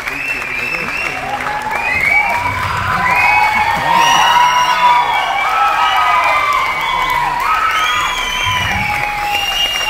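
A large crowd at an award ceremony claps and cheers loudly and continuously, with whoops and shouts rising over dense applause throughout.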